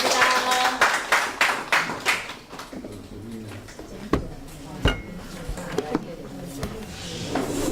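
Applause from an audience at a small evening humanities talk in Masan honouring a composer, starting as a dense burst of clapping that thins into scattered individual claps, with a voice speaking over part of it.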